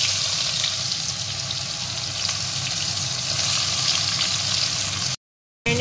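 Whole garam masala, cumin and chopped onion sizzle steadily in hot oil in a pan, a loud, continuous crackling hiss heard up close and alone, cutting out abruptly near the end.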